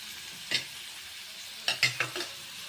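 Carrot and radish fry in a pan, with a quiet background sizzle broken by a few short scraping stirs, one near the start and a small cluster later, all close and fairly faint.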